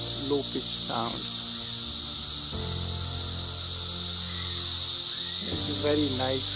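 A dense, high-pitched drone of 17-year periodical cicadas buzzes continuously in the background, with a voice speaking briefly over it at the start and end.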